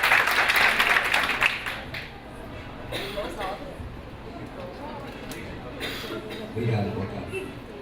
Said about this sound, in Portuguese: Uma salva de palmas, gente.